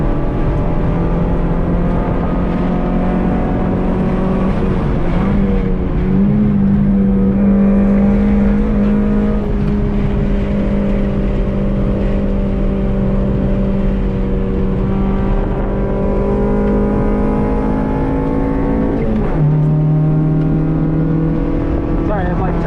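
A 1990 Honda Civic EF sedan with an MPFI D15B2 engine on a track hot lap, its loud droning engine note holding steady and shifting pitch as it accelerates, heard from inside the car, with people talking over it.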